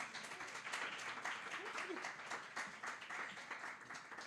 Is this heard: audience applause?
yes